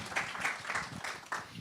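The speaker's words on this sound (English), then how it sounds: "So let's give her another round of applause." Audience applause at a gathering, a short run of clapping with a few sharper bursts, close and moderately loud.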